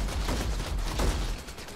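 Rapid gunfire from Nosgoth in a dense, continuous burst of overlapping shots, loud and close with no talk over it.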